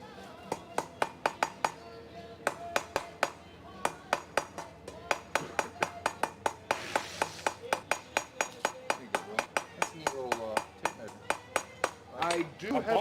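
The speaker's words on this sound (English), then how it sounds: "Today he's forging a hammer." Hammer blows ring out on hot metal at the anvil while a blacksmith forges a hammer, sharp metallic strikes in quick bursts and steady runs, loud and close, with brief pauses between series.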